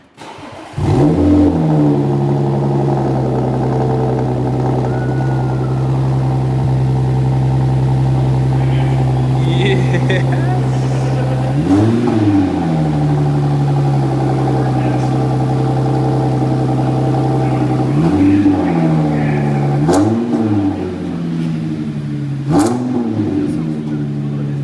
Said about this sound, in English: Get the first cold start with the AWE Touring.